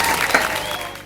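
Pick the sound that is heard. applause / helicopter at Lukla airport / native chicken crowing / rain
applause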